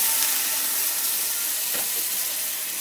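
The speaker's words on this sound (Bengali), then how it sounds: "এর মধ্যে আমি আর 1 কাপ মতো জল দিলাম" Hot pan of Bengali bean, potato and poppy-seed curry hissing and steaming steadily as about a cup of water goes in, a continuous near sizzle with no talk.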